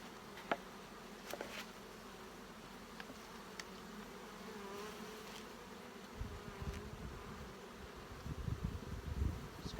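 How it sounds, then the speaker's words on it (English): A swarm of bees hums steadily around a hive, individual buzzes rising and fading close by, with no voices. "There's lots of bees up here."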